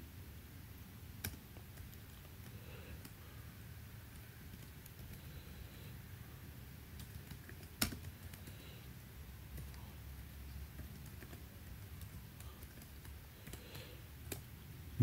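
Computer keyboard typing code, faint scattered key clicks and taps over low background hiss, with a few louder isolated keystrokes.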